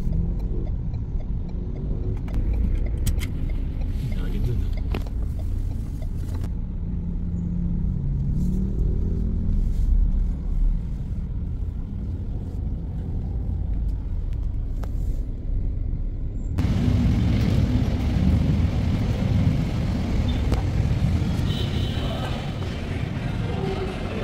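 Steady road traffic rumbles near a Yamaha dealership in Santa Rosa, with car and bus engines, some revving and a hiss like air brakes, loud and continuous. The level rises sharply part way through as heavier vehicles pass close by.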